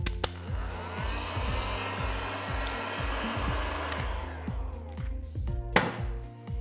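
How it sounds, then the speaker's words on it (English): A heat gun blows a steady whooshing roar as it melts chocolate in a bowl while someone stirs, with repeated scraping and knocking from the stirring utensil heard close and rhythmic beneath the constant airflow. "When you're using the heat gun, always ensure that you're stirring at the same time, otherwise you'll tend to burn the chocolate."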